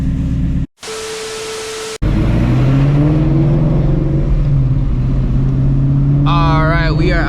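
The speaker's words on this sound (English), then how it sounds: "gonna let this car warm up" A Ford Shelby GT350 idles while warming up, a loud, close, steady rumble with a low droning tone and a slight rise in pitch partway through, after a short burst of static at the start.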